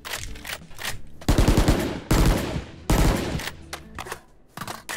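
Bulldog assault rifle with the Black Market skin in Valorant fires loud, close bursts of rapid shots, three distinct volleys separated by short pauses, with quieter weapon handling between them.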